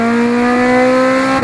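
A 1999 Honda Civic with an open header exhaust holds a loud, steady high rev, a harsh buzzing drone with strong harmonics, close and alone, dipping slightly at the very end.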